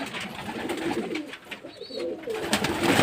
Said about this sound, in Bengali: জল দেওয়া মাত্রই পুরো ঝাঁপিয়ে পড়ে সবাই মিলে খাচ্ছে